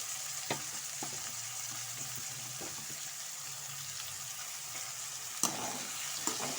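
Boiled bitter gourd sautés with tomato in a pan, giving a soft, steady sizzle with occasional clacks of a spoon stirring against the pan, fairly quiet and close.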